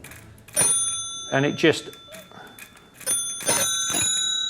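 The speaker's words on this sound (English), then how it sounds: "this has got a lovely little bell on the front that as you pull this lever, the wheel comes down, and as you're going forwards, it turns the wheel" A wheel-driven bell on the front of a vintage Minerva motor bicycle rings in several bright, sustained metallic bursts, fairly close, interleaved with someone talking.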